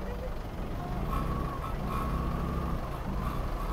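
Mexico City traffic heard from a motorcycle, with trucks rumbling low and steady, a repeating high reversing beep and engine drone, while a rider talks over the noise.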